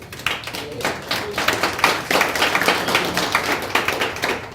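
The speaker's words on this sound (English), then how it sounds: "can I hear a clap?" An audience at a town hall meeting on opioids claps in scattered, uneven bursts, with several hands striking irregularly across the space at moderate loudness, alongside some background murmur.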